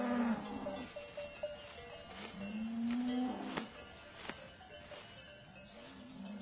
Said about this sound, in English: Only now is it warm enough for cows to be brought up to these high pastures.